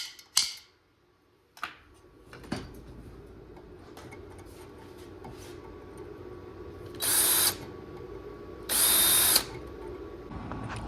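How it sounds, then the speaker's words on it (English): A power drill bores holes in metal parts for a slam mower build, with two loud whirring bursts and clicks and handling noises in a workshop. "let me get these holes drilled"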